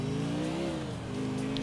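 A car engine in GTA IV revs hard at full throttle, a steady loud mid-pitched drone with a slight rise and dip in pitch, continuous and close throughout the short burst.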